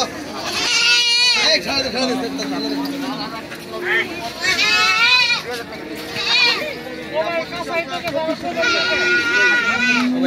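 Goats bleat repeatedly at a busy Bangladeshi cattle market in Keraniganj, Dhaka, their loud wavering cries rising over a steady crowd murmur with people talking nearby.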